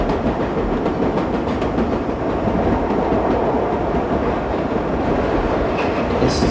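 A London Overground train running in a subway train simulator game, with a loud, continuous rumble of wheels on rails and faint rhythmic clickety-clack throughout.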